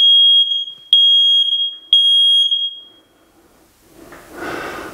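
A Google Nest Smoke and Carbon Monoxide Alarm sounds its smoke test: three loud, piercing beeps about a second apart, followed by a pause and a faint rustling noise.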